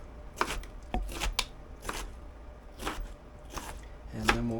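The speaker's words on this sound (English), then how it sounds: "So let's just slice through these" A knife slices through yellow beet and vegetables for a salsa dip, giving a handful of crisp, separate cuts on a board, close and fairly quiet.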